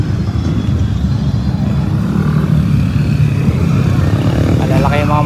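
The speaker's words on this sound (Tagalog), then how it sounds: "Malalaki yung mga motor nila" Big motorcycles of riders at a big bike rider show roll past in a continuous loud engine rumble, deep and droning with rising whine near the end, while people talk over it.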